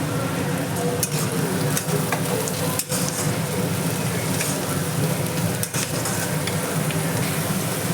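Carrots frying in oil for egg fried rice, a steady, dense sizzle under continuous stirring with occasional spatula scrapes, close and loud with no talk.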